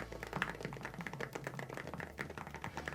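Rapid typing on a computer keyboard, a dense stream of light clicky taps at steady close range, no voices.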